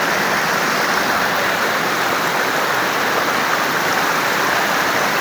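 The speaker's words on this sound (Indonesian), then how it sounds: "trek dialiri dengan air yang cukup deras" Strong water flow rushing down a mountain trail just after rain, a steady loud broadband roar with no break, like a stream running close by, with no voices.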